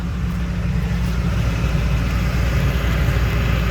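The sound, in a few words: 2008 Duramax 6.6L turbo diesel engine idling at tailpipe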